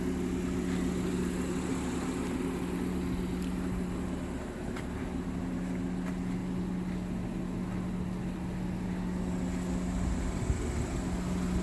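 The cooling fan on a 2022 Honda Pilot Special Edition AWD runs with a steady, low whirring hum, continuous and moderately quiet throughout, with no talking.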